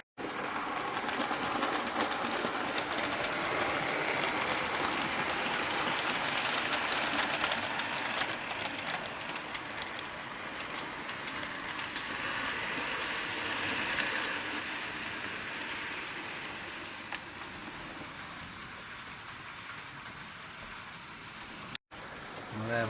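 A loft model railway train runs continuously, a steady close rumble and rattle with faint clicking of wheels on track, fading slightly before a brief cut near the end.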